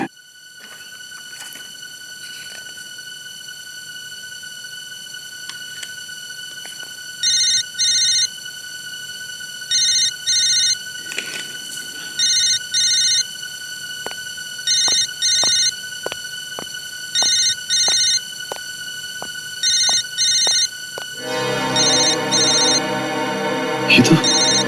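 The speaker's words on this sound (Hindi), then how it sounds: "बार बार क्यों फोन आ रहे हैं इसके?" A phone rings repeatedly in regular electronic bursts, fairly loud, with a brief pause between each pair of tones, ending in a louder burst of noise.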